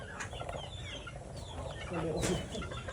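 Local early bird chickens cluck in a backyard free-range flock, several birds overlapping in a steady, close chorus with a few voices rising louder near the end.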